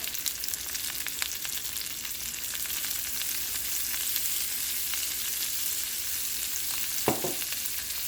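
Fresh tomato sauce seasoned with salt and black pepper sizzles steadily in a pan, a close, constant frying hiss with light stirring scrapes and a single louder knock of the spoon near the end.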